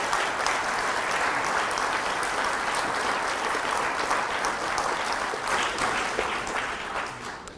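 An audience at a Richard Dawkins lecture applauds continuously, a dense wash of clapping that holds steady for several seconds before tapering slightly at the end.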